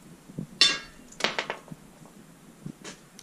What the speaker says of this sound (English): hit them with a hammer, and see what I get.